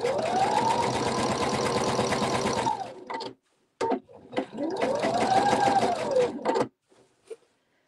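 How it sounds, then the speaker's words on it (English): A Husqvarna Viking sewing machine stitches quilting along diagonals in fabric: two loud, fast, even runs of needle chatter, the pitch rising then falling as the motor speeds up and slows, separated by brief pauses. "just sew up and down that diagonal to add the quilting"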